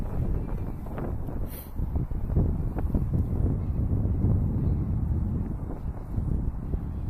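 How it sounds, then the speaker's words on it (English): Strong wind roars and buffets outdoors in a steady, close rumble that swells slightly at times, loud and continuous with no pauses. "that wind's zipping"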